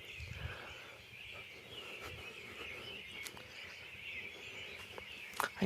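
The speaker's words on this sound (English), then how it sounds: "Listen to the birds." Birds singing outdoors on a foggy morning near a farmhouse, with soft chirps and calls rising over a steady hiss of ambient background noise, fairly faint and distant.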